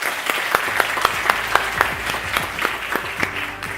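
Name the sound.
audience applause for the keynote speaker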